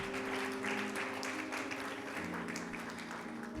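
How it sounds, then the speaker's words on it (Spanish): Congregation in a church clapping for the Lord, a broad soft wash of applause held steadily throughout, with a low sustained musical tone underneath. "Den un aplauso al Señor si lo quiere hacer."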